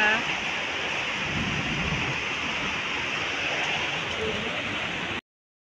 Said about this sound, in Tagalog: Ulan siya.